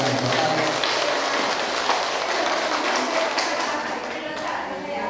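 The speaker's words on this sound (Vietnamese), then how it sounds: "để chúng ta một tràng pháo tay." Audience applause at a yoga club's first-anniversary celebration in Triều Khúc, Vietnam: steady, dense clapping from a crowd that holds for about five seconds, with voices audible underneath.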